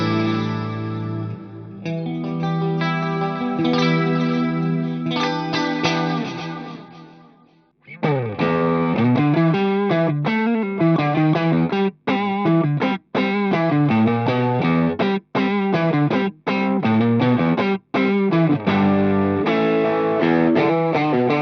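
Electric guitar played through an ART Power Plant amplifier with layered effects: sustained, chorused and distorted chords ring out, then rhythmic strummed phrases with brief pauses between, loud and close.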